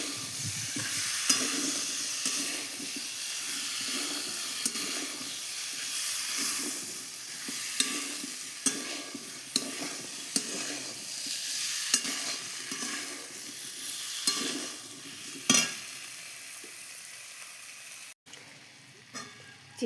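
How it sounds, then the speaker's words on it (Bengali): Chicken with tomato and green chili stir-fried in oil in a home kitchen, a steady sizzle with repeated scraping stirs and clanks of the spatula throughout, close and alone. "এবার এটা ভালো করে কষে নেবো।"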